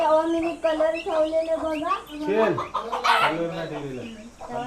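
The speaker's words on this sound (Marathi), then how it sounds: "ही कोंबडी घरात जात आहे" Chickens clucking close by in repeated bursts, with people talking in the background.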